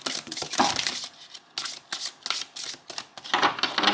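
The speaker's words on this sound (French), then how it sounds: "je vais prendre une autre carte" Playing cards being drawn and handled from a deck, a series of brief papery rustles and flicks coming in separate bursts, close and fairly quiet with pauses between them.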